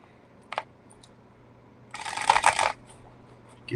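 A deck of tarot cards is shuffled close by in one brisk riffling burst after a lone tap, with quiet room tone around it.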